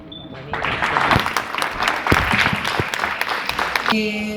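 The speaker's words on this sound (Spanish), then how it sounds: "Yo pido un fuerte aplauso para cerrar cada una de las intervenciones" Audience applause closing a speech at a gathering of retired education workers, broad clapping that starts after a brief quiet moment and continues, with some voices mixed in.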